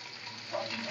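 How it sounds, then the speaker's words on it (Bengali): Chinese rolls fry in refined oil in a pan, two at a time, over a medium gas flame, giving a steady close sizzle that swells louder toward the end, with no talk. "আমি দুটো দুটো করে ভেজে নিচ্ছি"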